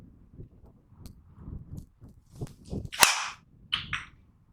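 A single sharp, tinny crack of a Callaway Mavrik golf driver hitting a ball, preceded by soft outdoor rustling and followed by faint clicks.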